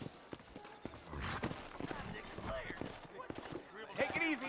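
Horse hooves clop rhythmically in the video game Red Dead Redemption, mixed with game sounds and a voice speaking over them, moderately close.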